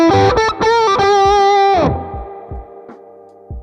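Electric guitar played through a Mesa Boogie amp model in AmpliTube 5, a few quick sustained lead notes with a bend, then a single note ringing out and decaying, with faint picking and close, clear tone.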